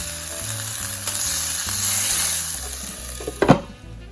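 Stuffed eggplants fry in a pan with a steady, close sizzle, broken near the end by a few sharper clatters and splashes as the pieces are turned over; no one speaks.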